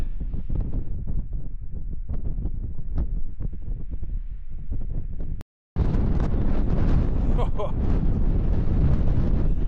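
Strong wind buffets the microphone on an exposed hilltop, a loud and constant rumbling roar that cuts out briefly before returning even harder.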